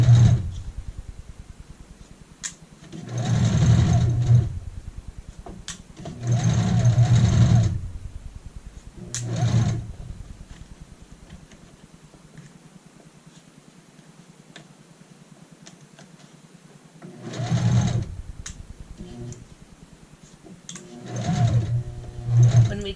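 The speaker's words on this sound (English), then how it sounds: "Stitching about 3/8 of an inch away from the edge." Domestic sewing machine stitching a waistband onto a skirt about 3/8 inch from the edge, in several steady whirring bursts of a few seconds each, separated by quiet pauses, close and clear with no talking.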